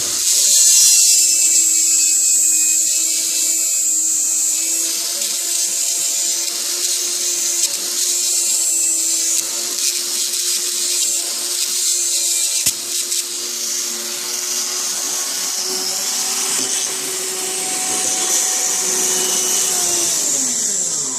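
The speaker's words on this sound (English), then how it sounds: "Just take your Dremel here and fire it up" A Dremel rotary tool spins up and hollows out an electrical connector while fitting a Mercedes O2 sensor, giving a steady high-pitched whine that holds close and loud for about twenty seconds and then winds down near the end.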